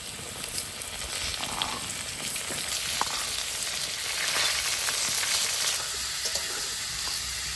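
Tomatoes added to a pan of frying spices for a Bengali rohu fish curry sizzle loudly and steadily, a dense continuous hiss with occasional stirring clicks, close and without talk.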